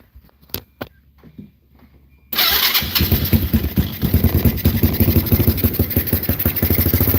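A small carbureted engine, freshly refuelled after old gas was drained, starts after a few quiet knocks, then runs loud and close with rapid, chattering firing pulses that hold steady under throttle.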